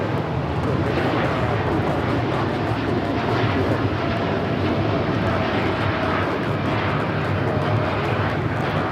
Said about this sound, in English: 2127 taking off to Newark on the 787-9 Dreamliner